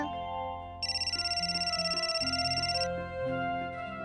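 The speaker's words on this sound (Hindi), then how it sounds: "अनन्या दीदी का फोन भी आ गया।" An electronic phone ringtone trills steadily for about two seconds over soft background music, fairly faint and alone without talk.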